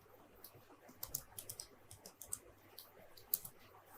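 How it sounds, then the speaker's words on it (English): Faint keystrokes on a computer keyboard as a web address is entered into a browser, an irregular run of light clicks over a quiet room hum, fairly close, with no talking. "you can open your web browser and then type VMware"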